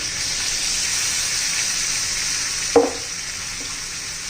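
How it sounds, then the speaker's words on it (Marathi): Ground masala paste added to capsicum frying in a pan, a steady loud hiss of frying with one sharp utensil knock near the middle and a quieter tap after, with no speech. "आता आपण हे जे वाटण केले ना ते घालून घ्यायचे"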